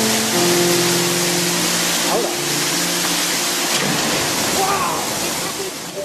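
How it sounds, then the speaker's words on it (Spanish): Water rushes through a traditional water mill and strikes the blades of its horizontal wheel, a loud, dense, continuous roar of churning water that holds steady throughout. "La presión del agua que salía de él chocaba contra los alabes del rodeno que comenzaba a girar."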